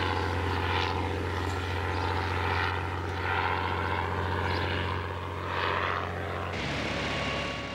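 A Bristol Fighter biplane from the First World War drones steadily with its propeller engine, a loud continuous roar with slow swells in pitch, heard alone without voices.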